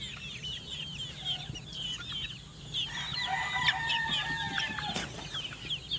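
Backyard flock of national banded gamefowl chickens clucking and calling at a distance, with a rooster crowing midway over a low steady background hum.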